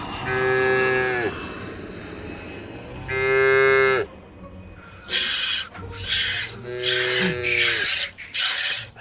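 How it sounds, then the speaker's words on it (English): A cow moos loudly several times in long drawn-out calls, close by, mixed with bursts of rattling, ratcheting mechanical noise. "The cow wakes up and Pearl gently milks it"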